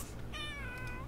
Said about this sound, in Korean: 안에 고양이, 샴고양이도 있는데?